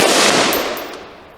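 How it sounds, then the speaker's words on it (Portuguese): A single rifle shot fired with Polymer Tip .223 55-grain ammunition during a ballistic test at a shooting range, a loud sharp crack with a bright, decaying report and no voices. "Terceiro disparo, munição Polymer Tip 223 55 graus."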